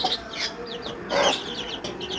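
Young chickens on a poultry farm at night make a scatter of soft clucks and high peeping chirps nearby, with one fuller call in the middle.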